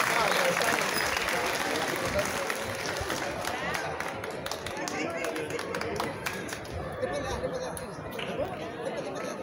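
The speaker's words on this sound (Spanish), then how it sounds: "El público presente también le regala un fuerte aplauso, aplauso merecido a nuestro deportista destacado" A school graduation audience gives a long, hearty round of applause for a standout student athlete, steady dense clapping mixed with crowd chatter throughout.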